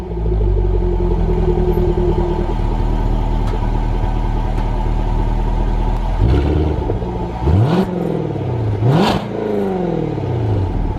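A 2020 Jaguar F-Type R with its active exhaust button switched off, idling with a steady engine drone before two sharp revs rise and fall near the end, loud and close with no talking.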